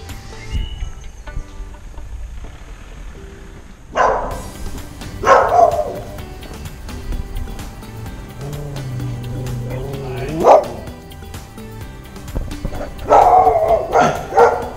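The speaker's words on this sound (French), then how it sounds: "mais une fois qu'on part, il commence à aboyer ce clébard" A dog barks outdoors in the town of Maribor in Slovenia, giving several loud, close barks and yips at irregular intervals over a steady hum of crickets and insects.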